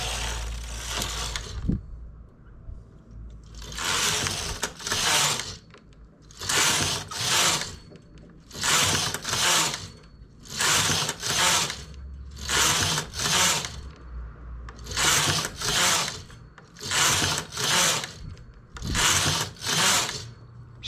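A machine-knitting carriage runs back and forth across the needle bed knitting rows of a geometric triangle pattern, loud rattling whooshes roughly every two seconds with short quiet pauses between passes, close and steady.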